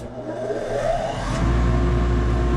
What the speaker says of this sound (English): I turn on my exhaust.